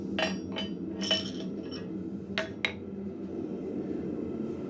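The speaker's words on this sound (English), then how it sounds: "I got a little bit of a burr on the tip of my round punch, so I'm just going to take that down a little bit with my hammer." A blacksmith's hammer taps the burred tip of a steel round punch in a forge shop, giving several light, sharp metallic clinks in small clusters over a steady background hum.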